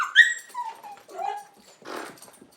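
A dog makes a series of high, whining whimpers and yips close by, then a short low growling huff, in an otherwise quiet indoor space.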